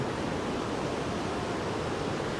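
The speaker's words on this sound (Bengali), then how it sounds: "মানে বুঝতে পারছো কত নিচ দিয়ে জলটা বয়ে যাচ্ছে" A steady, broad rush of water rises from a river flowing far below in a deep canyon, forming a continuous wash of noise with no voices.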